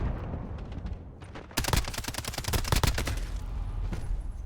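UMP45 submachine gun fire in Modern Warfare 2019: after a quieter opening, a burst of rapid loud shots breaks out mid-clip and continues with scattered further gunfire and background battle noise.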